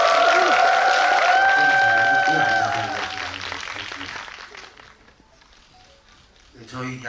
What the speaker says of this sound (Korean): 다시 한번 세 분께 박수 부탁드리겠습니다